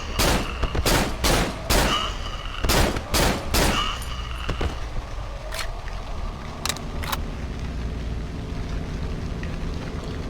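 Gunfire in the Cry of Fear video game: a rapid burst of loud, sharp shots in an uneven rhythm, followed by a few scattered single shots over a low steady ambient drone.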